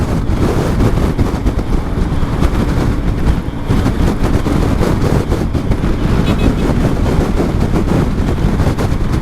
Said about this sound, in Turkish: Rüzgara bak rüzgara.